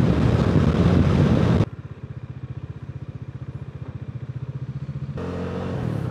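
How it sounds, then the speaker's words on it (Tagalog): A Bajaj Dominar 400 motorcycle on the road, at first a loud roar of rushing wind and engine, then a steady low thumping engine pulse at a constant pace, with the wind noise swelling again near the end. "Masarap pa rin mag-motor."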